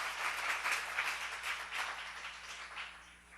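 An audience at a church seminar applauds, a dense, steady wash of many hands clapping that sounds somewhat distant and tapers off slightly toward the end.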